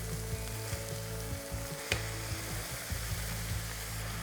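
Minced beef sizzling in a pan over moderately high heat for bolognese sauce, a steady close crackle with occasional stirring scrapes and no talk.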